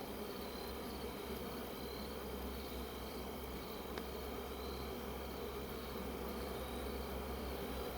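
Bees and yellow jackets at a beehive landing board make a dense, continuous close buzzing hum, steady throughout with no talking.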